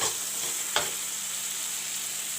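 Masala spices browning in hot oil for a potato and soya chunk curry sizzle steadily and close up, with one brief clink of a stirring utensil.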